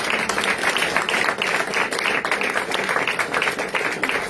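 A church congregation applauding during a consecration service, dense sustained clapping from many hands filling the room, loud and continuous with no break.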